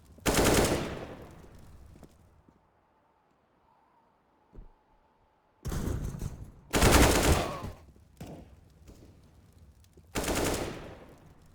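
Bursts of rapid automatic gunfire in a first-person shooter game, loud and close, with two or three separate volleys broken by short quiet gaps and a faint tone in between.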